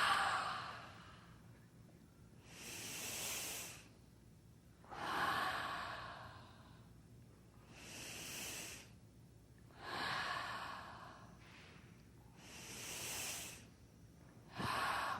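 Slow, deep breaths during an energy medicine exercise, each long exhale sighing out at regular intervals of about two to three seconds, close and fairly soft, with quiet pauses between and no talking.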